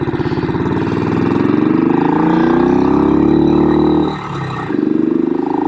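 A 1970 BSA Victor Special 441 single-cylinder motorcycle engine thumps loudly up close, its pulsing beat rising in pitch as the throttle opens, briefly dropping off near the end before chugging back.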